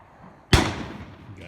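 A single sharp gunshot cracks out in the Superstition Mountains, a loud close bang with a quick decaying echo tail standing alone against quiet ambience.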